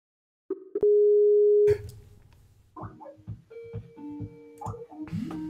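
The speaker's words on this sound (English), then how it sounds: "We can hear his phone ringing." A Skype call rings, with a loud steady electronic tone near the start, followed by quieter tonal beeps and chimes. Some faint speech is mixed in.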